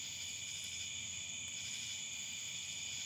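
Cicadas drone in a steady, dense shrill chorus outdoors at night, continuous and fairly faint, with a low background hush and no talking.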